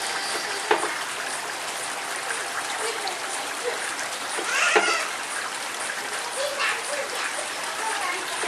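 A product 211 water fountain, about 30 cm tall and weighing around 3 kg, running with a steady close splashing and trickling wash of falling water, alone throughout with a couple of brief brighter splashes.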